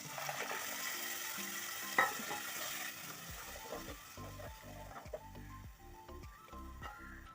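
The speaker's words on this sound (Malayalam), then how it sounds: "ഇനി നമുക്ക് അരച്ചു വയ്ക്കുന്ന അരപ്പോട് അതിലേക്ക് ഒഴിച്ചു കൊടുക്കാം" Ground spice paste is poured into a hot frying pan for a seer fish curry, giving a soft sizzle and stirring scrape beneath steady background music.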